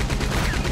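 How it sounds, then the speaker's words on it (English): Rapid, loud continuous Gatling gun fire from the video game Red Dead Redemption 2, a sustained dense burst of gunshots with no pauses. "Why would you run right in front of a Gatling gun like that?"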